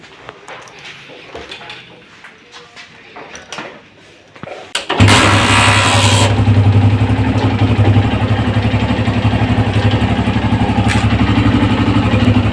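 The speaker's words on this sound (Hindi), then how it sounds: "और अब बाइक को स्टार्ट करेंगे और इसका साउंड सुनेंगे।" After a few seconds of clicks and fiddling, a Honda CG 125 motorcycle engine fires up loudly and settles into a steady, close idle.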